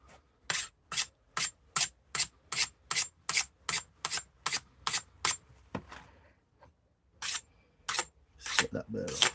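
Steel tool rasps across the edge of a Swedish steel axe to remove the burr: about a dozen quick, evenly spaced strokes, then a short pause and a few more irregular strokes, close and crisp.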